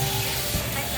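Beef stir-frying in a pan over high heat: a loud, continuous sizzle with steady hiss and crackle, and a low hum beneath it.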